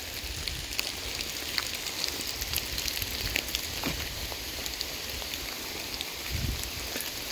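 Rain patters steadily on a phone screen outdoors at a rainy gorge, with a dense hiss of drops and occasional sharper taps close to the device.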